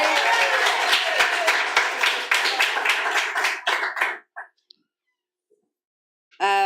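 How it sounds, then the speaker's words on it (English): Audience at a poetry reading gives a round of applause, many hands clapping loudly and steadily, then thinning to a few scattered claps before stopping, with a short burst of sound returning at the very end. "Can you give a round of applause for Eric"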